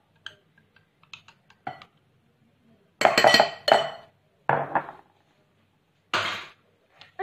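Spoon clinks against a bowl as chicken breast is mixed with black pepper, paprika, cumin and salt, a few sharp clattering bursts separated by quiet pauses, close by with no talking.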